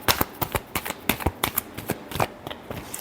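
Tarot cards are shuffled by hand in quick, uneven riffles and flicks, close and crisp, with no voices over them.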